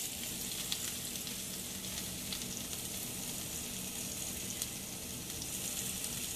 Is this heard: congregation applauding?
no